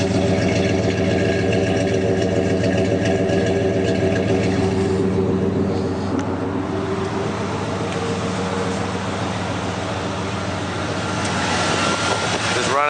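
A 1995 Ford F250 with the 460 V8 idles steadily and close by, a continuous low rumble with even rhythm throughout, with some voice-like activity mixed faintly underneath.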